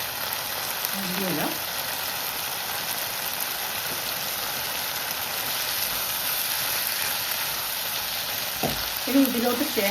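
Coriander leaves sautéing and being stirred in a hot pan, a steady loud sizzle throughout with brief scraping stir sounds near the start and end.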